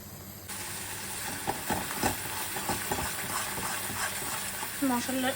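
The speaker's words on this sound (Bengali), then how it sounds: "মশলাটা এবার নাড়াতে থাকবো, আর একটু আঁচটা কম করে দেব, মশলাটা যাতে আস্তে আস্তে কষে যায়" Spice masala frying in oil while being stirred, a soft continuous sizzle with light scraping strokes of the spoon across the pan, close by and moderately quiet, with no one speaking.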